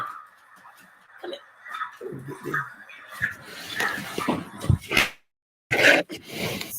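Dogs making short sniffs, snorts and brief yelps, close by in a room, with a person talking intermittently between the bursts.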